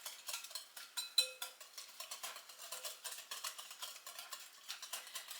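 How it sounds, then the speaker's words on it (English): Light olive oil and sugar stirred in a bowl, a quick run of soft rhythmic clinks and scrapes from the utensil against the bowl, close and fairly quiet, with no talking. "Mix this up. Try to get some of that sugar dissolved."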